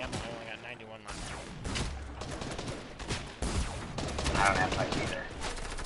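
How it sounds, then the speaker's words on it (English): Gunfire in the video game Fortnite: dense, rapid bursts of shots that keep going almost without a break, with a voice speaking briefly over the shooting. "now he's shooting at me from a different direction"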